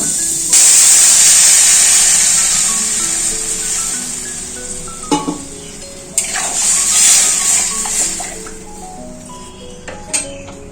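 Water is poured into a pan of hog plums sautéed with turmeric powder, setting off a loud sudden hiss of steam and sizzling that slowly fades, broken by a few small clicks and bubbling spits.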